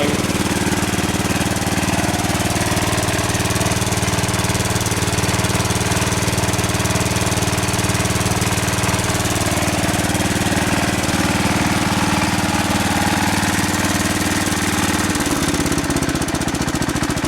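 A John Deere 140 garden tractor engine runs close and loud with a steady, slightly rattling, knocking idle, the tone shifting briefly near the end.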